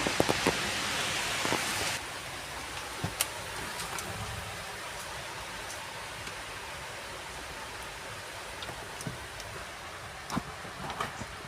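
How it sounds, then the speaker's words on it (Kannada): Heavy rain pours down in a steady dense hiss, with occasional sharper drops and taps standing out. "ತುಂಬ ಅಂದರೆ ತುಂಬ ಮಳೆ ಬರ್ತಾ ಇದೆ"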